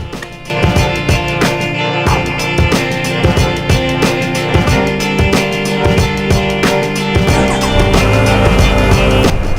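A 2020 Kawasaki Z900 superbike on the move, its engine note loud and continuous with a dense, steady drone and rattling bursts throughout, close and unbroken, with no talk.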